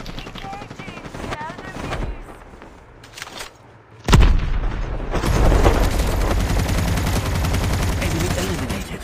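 Rapid video game gunfire crackles in dense bursts, with a sharp loud blast midway followed by sustained heavy shooting under voice chatter.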